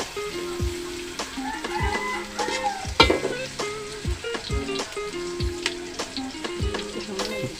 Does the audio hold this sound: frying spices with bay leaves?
yes